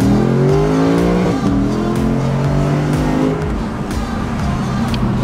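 A Lexus RC F sports car accelerating hard in track mode, its engine note climbing in rising harmonic sweeps with a gear change, loud and close, settling into a steady roar.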